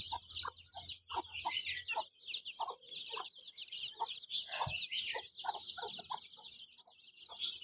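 Chicks and a hen calling in a farm yard, with rapid high peeps and clucks that repeat continuously and fairly close, some louder cheeps standing out over a steady chirping chorus.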